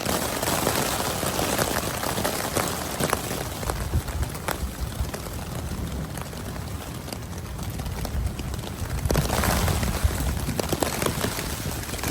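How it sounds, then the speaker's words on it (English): A dense, steady patter of heavy thunderstorm rain drumming on a tent nearby, loud and continuous, with occasional sharper drops. "we're getting a serious rain test with this thunderstorm going on right now"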